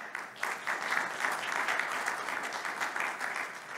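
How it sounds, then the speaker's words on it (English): A conference audience breaks into steady, full applause for a panelist being introduced, with dense clapping that holds evenly throughout. "Big applause for David."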